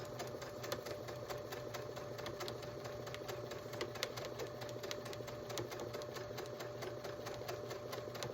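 A sewing machine stitching a baby bib seam runs continuously at a quiet, steady pace, a soft even mechanical whir with no pauses.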